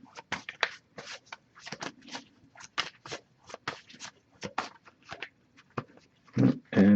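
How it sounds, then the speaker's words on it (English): Tarot cards shuffled by hand during a reading, giving a run of quick, crisp riffling bursts that come close and fairly loud, with a heavier thump and low rustle near the end. "if I shuffle for a while without anything coming up"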